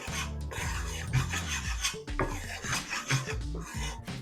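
Flour and salt being mixed together in a large prep bowl for blueberry biscuits, a continuous close rasping, rubbing scrape with rhythmic strokes and no talking.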